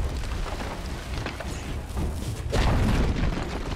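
A tower collapsing in Dota 2 gives a broad low rumble that swells and booms loudest near the end, with crackling debris over steady game noise.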